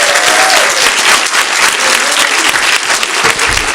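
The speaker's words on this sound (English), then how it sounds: "Let's give her another round of applause" Loud, enthusiastic applause from an audience at a court graduation ceremony, cheering a soloist after her performance with a chorus; dense clapping throughout a short burst.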